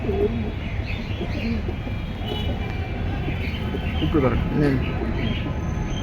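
Pigeons cooing at a pigeon collection sale, soft repeated coos close by among chirps, under a steady background hum and nearby voices.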